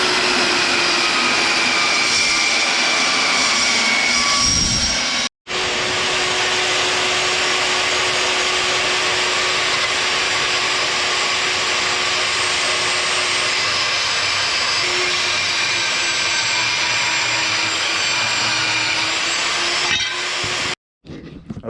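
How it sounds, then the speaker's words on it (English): A chop saw with an abrasive cut-off wheel slices metal templates for 55 Chevy fuel tank mounts, giving a loud, steady grinding whine that runs almost continuously with two brief cuts to silence. "And we'll just throw it into the chop off,"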